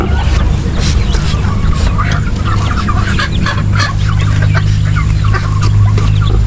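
Chickens cluck and chatter repeatedly in a backyard coop on a rural farm, loud and close. Steady low background hum and scattered talk run underneath.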